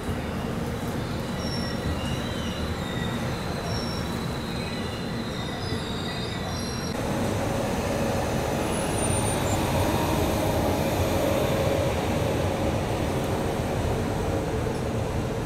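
Harihar Express train, hauled by a Ghaziabad-shed WP5 locomotive in Bihar, rolling past up close with continuous loud rumbling wheels on rails, grinding and a faint squeal, with the roar intensifying halfway through.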